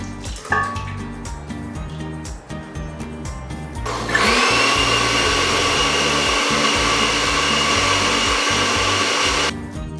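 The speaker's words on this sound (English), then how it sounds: "I'm going to put it inside here and just blend it out into a sauce" A kitchen blender purees cooked peppers into a sauce, roaring loudly and steadily for about five seconds after a stretch of lower motor whirring and clatter, then stopping abruptly.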